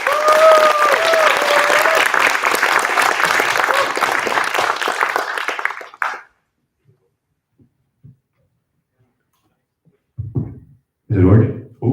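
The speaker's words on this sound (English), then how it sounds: "Give them a warm applause." Warm audience applause at a closing presentation event at Tekniska Museet, a loud dense crowd clapping that stops abruptly after about six seconds, followed by near silence and brief microphone handling with a few spoken words.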